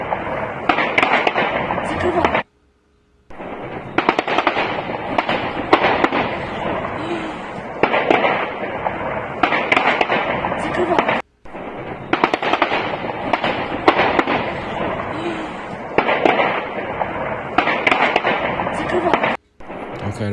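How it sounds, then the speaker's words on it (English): Dense gunfire from a war zone in Ukraine crackles continuously with rapid pops and bursts, bullets whizzing past, broken by only a couple of brief silent gaps. "those are actually bullets whizzing past, I believe"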